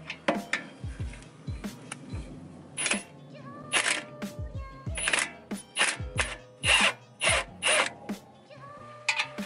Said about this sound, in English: you can use your hex number 7 socket and you can remove the caliper